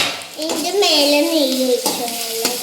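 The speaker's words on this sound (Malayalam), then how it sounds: "രണ്ട് നേന്ത്രപ്പഴം ഒന്ന് വഴറ്റിയെടുക്കാനുണ്ട്. അത് നെയ്യിട്ട് ഇട്ട് കൊടുക്കാം." Ripe nendran bananas sautéing in ghee in a pan: a soft sizzle and the scrape and clink of stirring, with a voice talking over it.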